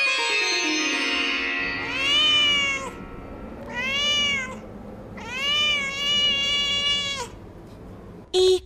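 Cats meow in a series of long, drawn-out, whining cries, three or four separate calls close and loud, ending with a short sharp sound.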